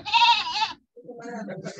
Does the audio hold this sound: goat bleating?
yes